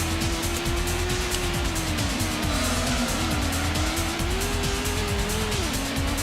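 A race car in the video game Gran Turismo corners with continuous loud tire squeal wavering in pitch over a constant engine roar.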